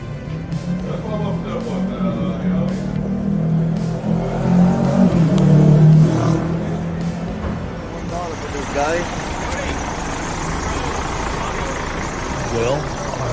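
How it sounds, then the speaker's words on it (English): A tour bus pulls up outside a hotel with its engine running, a steady low rumble that swells as it arrives and then settles, with people talking nearby throughout. "Well, our bus has arrived and we will be taking off soon."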